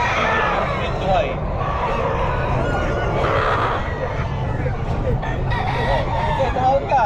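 A rooster crows repeatedly amid the busy hubbub of a pet market, with people talking nearby and other fowl clucking in the background.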